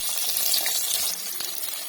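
Steady, busy sizzling of onion frying in a hot pan, with faint stirring scrapes, close and continuous.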